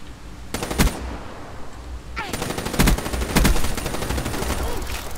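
An HVK-30 assault rifle fires loud, rapid automatic bursts in Black Ops III multiplayer, the sharp volleys repeating over a busy game soundscape.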